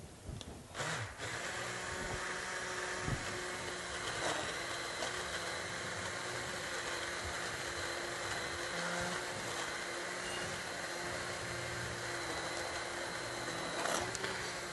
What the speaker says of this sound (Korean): 핸드 믹서로 바로 하겠습니다